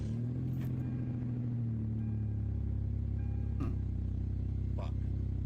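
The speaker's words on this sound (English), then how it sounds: "the truck started to make this noise" A truck engine makes a steady low droning rumble with a shifting tone that dips and settles partway through, heard from close by with a couple of brief clicks over the top.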